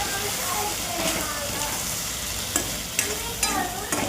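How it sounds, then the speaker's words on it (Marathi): Potatoes with turmeric, salt and coriander powder sautéing in a pan for bhaji, a steady close sizzle with occasional scrapes and taps from stirring, while a voice talks faintly under it. "चांगली परतून घेऊ आपण."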